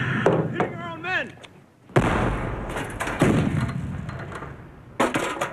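Artillery shells strike among soldiers in a war film scene, heavy booming impacts and blasts in bursts, with shouting voices and a whistling tone between explosions.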